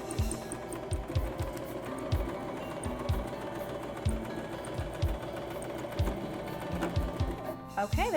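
A sewing machine stitching the lining of a fabric makeup bag: rapid close bursts of mechanical needle chatter in short runs with brief pauses, fairly faint.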